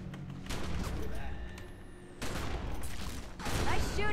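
Gunfire in The Secret World game, dense volleys of shots in sustained bursts separated by a brief lull, loud and close with a continuous battle din underneath.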